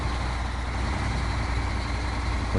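A heavy truck's engine in the off-road driving game SnowRunner, a steady loud low exhaust rumble as the throttle eases off, droning continuously without talking.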